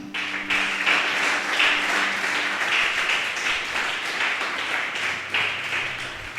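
A church congregation claps together in a dense, sustained round of applause, filling the space evenly at moderate loudness from start to finish.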